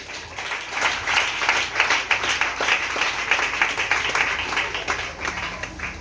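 A church congregation claps and cheers in acclamation of Jesus, a dense, loud, continuous burst of rhythmic applause mixed with voices for several seconds.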